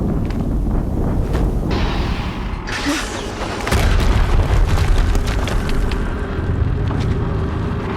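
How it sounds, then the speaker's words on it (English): Explosions in the action game Horizon Zero Dawn boom out over a dense bed of rumbling game sound, with a heavier, louder blast swelling midway and lingering through the rest. "Another explosion."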